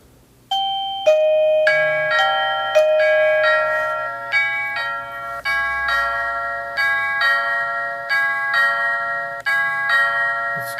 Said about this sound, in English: Doesn't make that noise when the doorbell rings. It makes this one.